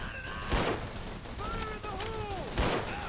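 Gunfire in Call of Duty 3 on PS2: a couple of heavy rifle or machine-gun bursts spaced apart, with tonal game sounds and whistles between them, loud and close.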